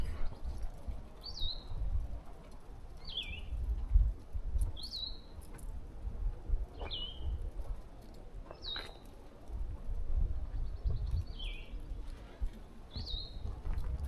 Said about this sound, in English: look at this bird